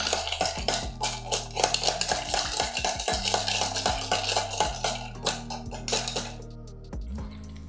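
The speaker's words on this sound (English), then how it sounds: "with a bar spoon, you're gonna churn a little bit to mix all the ingredients" Bar spoon churning crushed ice in a cup while mixing a mint julep cocktail: a steady run of close, gritty clinks, scrapes and rattles of ice and metal, with no talking.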